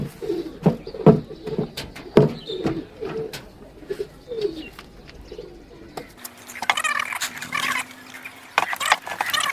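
Pigeons coo in soft repeated phrases at newly set-up bird feeding houses, then higher chirping and calls from other birds take over near the end. The sound is close and clear, with no talk.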